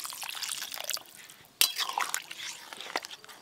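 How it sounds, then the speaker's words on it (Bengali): A little water poured into a tea liquor mixture in the kitchen, heard as soft trickles and drips with a sharp splash partway through, close by. "আর একটু জল লাগবে, অল্প একটু জল দেব।"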